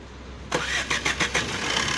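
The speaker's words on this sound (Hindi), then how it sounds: "ये देखिए गाड़ी स्टार्ट है, छूते स्टार्ट हो गई है।" Maruti Suzuki Swift Dzire diesel engine, just after a timing chain change, cranks in a short burst of rhythmic pulses and then catches into a steady idle, close and fairly loud.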